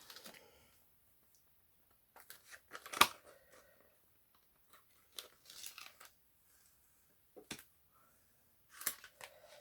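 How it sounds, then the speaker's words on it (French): Intermittent crinkly tearing and peeling noises of adhesive tape pulled off a magnet on a scrapbooking album page, several short close bursts separated by quiet pauses, with no speech. "On va pas oublier d'enlever le scotch"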